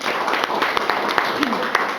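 Church congregation applauding, a crowd of hands clapping with irregular sharp claps throughout a short stretch, mixed with voices in the room.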